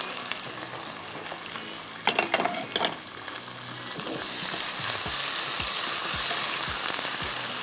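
Tomatoes, masoor dal and spices fry together in a pan, giving a steady close sizzle that grows louder partway through. A few utensil clatters and scrapes come near the middle.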